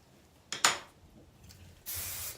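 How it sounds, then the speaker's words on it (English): A hairspray can gives two quick, sharp spritzes, then a longer hissing spray after a short pause, close by. "spray it with that air control, Veda air control hairspray."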